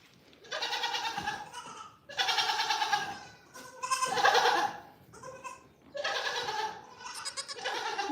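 A goat bleats loudly several times in a row, calling to her kid, long wavering calls with short pauses between them, close by, on a goat farm.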